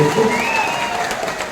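A crowd at a political party rally claps to welcome three hundred new members, a brief dense patter of applause under a sustained tonal hum from the sound system.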